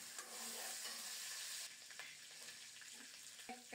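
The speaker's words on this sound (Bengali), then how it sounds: "তেল গরম হলে বাদামগুলো দিয়ে দিলাম।" Peanuts fry in hot oil with a steady, soft sizzle and crackle, occasional stirring scrapes breaking through; quiet and close, no voices.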